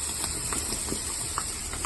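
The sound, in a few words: dry fish frying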